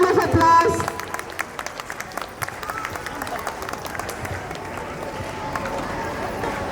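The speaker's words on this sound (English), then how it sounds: "Please give a huge round of applause" Applause at a school investiture ceremony, a broad wash of clapping from a crowd of children and adults that starts loud and settles into steady clapping, with an announcer's voice over it at the start.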